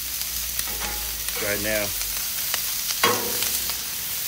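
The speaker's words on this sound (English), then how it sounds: "I want to cook these onions, get them golden brown" Onions sautéing on a Blackstone air fryer combo griddle, a steady close sizzle with brief scraping of a spatula, while someone speaks briefly twice.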